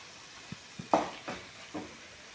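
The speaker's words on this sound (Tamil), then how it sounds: "தேங்காய் சாந்து போட்டு தேங்காய் பேஸ்ட்டு போட்டு வதக்கிட்டு" Prawn thokku with coconut paste is sautéed in a pan, a soft sizzle broken by a few short scraping stirs at an uneven pace, close and alone.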